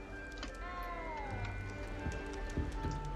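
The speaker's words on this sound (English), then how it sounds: "You don't need to be frightened, little cat." A frightened small cat meows in the video game Hogwarts Legacy, a few faint plaintive cries over a dense background of game music and ambience.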